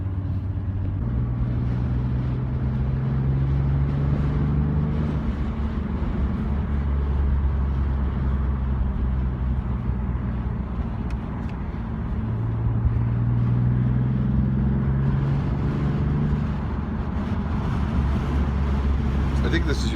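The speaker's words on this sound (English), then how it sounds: "everything's in comfort mode except for throttle, which I put in sport because I like the valves open in the exhaust and little crackle and burble" A BMW M3 F80 ZCP driving with exhaust valves open in sport throttle mode, a steady low engine drone with gear-shift rises and falls, heard from inside the car under ongoing talk.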